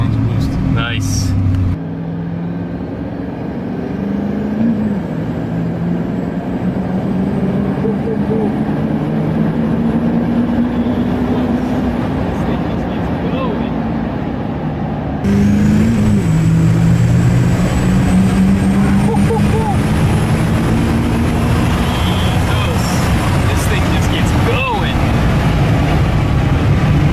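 A 1200 HP diesel truck pulls hard off the line on a street, its engine note rising steadily in two long climbing runs, loud and close, with people talking over it.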